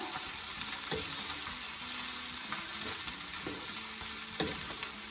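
Fried rice sizzles steadily in a pan over a lowered burner while a utensil stirs it quickly, giving a few distinct scraping knocks over the constant frying hiss.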